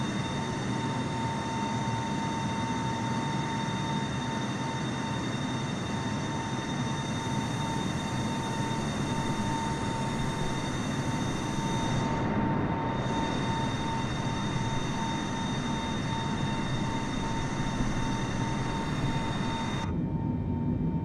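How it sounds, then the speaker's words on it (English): A Boeing 747 in Microsoft Flight Simulator gives a steady, loud, continuous engine roar with a constant high whine that holds for the whole stretch, unchanging and with no talking. "We can hear the plane for once."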